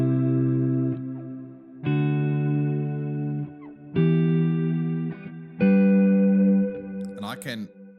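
Electric guitar run through the Strymon BigSky pedal's plume reverb setting, four strummed chords ringing out with thick, shimmering decay and a brief scrape of strings at the end, loud and close.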